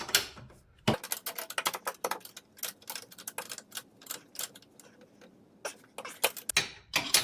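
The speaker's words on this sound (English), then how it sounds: "So this shouldn't take long to tighten back down on the top." Top bolts on a VW beam being tightened by hand, giving rapid ratchet-like clicking in quick uneven bursts, close and fairly quiet.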